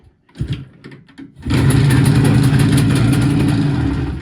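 An engine cranks briefly and catches, then runs and revs steadily and loud up close, with no talk over it.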